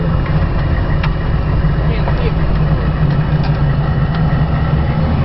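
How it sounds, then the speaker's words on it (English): A vehicle drives along a road near Baghdad, bound for the Anaconda base, its engine a steady low drone with road rumble that never lets up from start to finish. "We're driving down the road right now."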